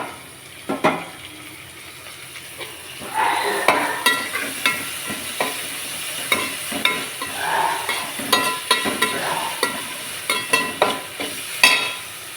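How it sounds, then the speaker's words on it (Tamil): Onions and tomatoes sauté in a pan while cooking a crab fry, with a constant soft sizzle under repeated scraping and stirring strokes of a spoon against the pan, close and fairly loud. "வெங்காயமும் தக்காளியும் நல்லா வதங்கிடுச்சு"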